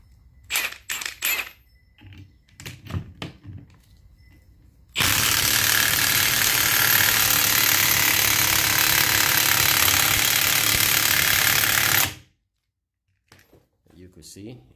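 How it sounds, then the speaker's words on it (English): Impact wrench hammering continuously for about seven seconds to press out a ball joint on a Ford E250 van, loud and steady, with brief clanks and tool handling before and after. "So I'm just gonna use an impact wrench."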